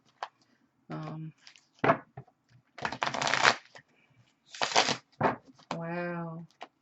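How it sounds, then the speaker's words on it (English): Tarot cards shuffled loudly by hand in several rough, papery bursts, close and prominent, with a voice speaking briefly between the shuffles. "Sorry for the loud shuffling. I tend to shuffle pretty loud"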